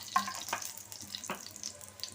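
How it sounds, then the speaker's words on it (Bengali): Oil sizzles faintly in a hot kadai, a soft hiss broken by a few brief crackles and clicks, with no talking. "কড়াইটা গরম হয়ে গেছে দেব তেল"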